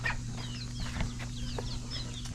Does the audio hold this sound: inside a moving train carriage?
no